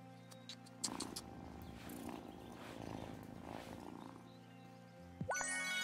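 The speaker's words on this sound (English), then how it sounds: "Pet the cat." A petted cat purring in the farming game Wylde Flowers, a soft low rumbling purr running steadily under quiet game music, ending with a rising chime.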